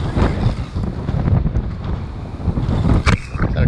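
Gale-force wind buffeting the microphone while saltwater fishing from a boat, loud continuous roaring gusts close up with possible water noise underneath, no talk.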